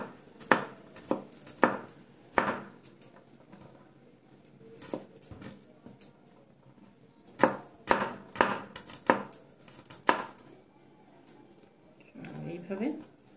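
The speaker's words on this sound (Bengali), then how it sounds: "এবারে রসুনগুলোকেও কুচিয়ে নেব" A knife chops garlic on a cutting board in short bursts of sharp, close taps, some rapid and some spaced, with quiet gaps between runs.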